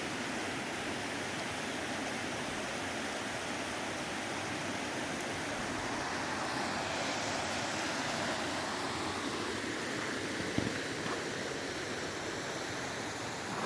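Loud, steady rush of the Molalla River, a dense broadband roar of flowing water that fills the whole clip without letting up.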